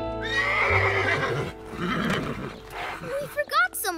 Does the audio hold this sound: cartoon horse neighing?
yes